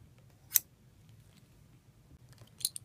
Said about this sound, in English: make sure you cut it with a sharp pair of scissors